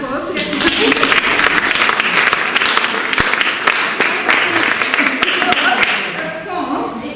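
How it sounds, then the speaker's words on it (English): A theatre audience at a murder mystery evening breaks into a dense, sustained round of applause, many hands clapping loudly and steadily before tapering off at the end. "So let's give them a round of applause"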